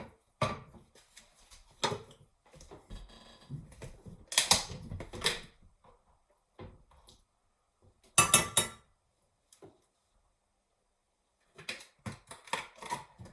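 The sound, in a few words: stirring pasta in a pot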